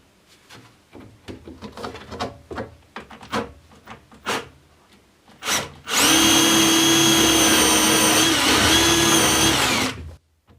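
A 5mm Festool LR32 router bit drills holes in plywood: scattered clunks and handling knocks, then a loud, steady whine of the power drill running for about four seconds before stopping.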